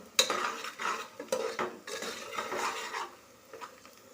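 Whole spices such as cinnamon being sautéed in a pan for quail biryani, with repeated scraping stirs and metal utensil clinks over a light sizzle, close and irregular.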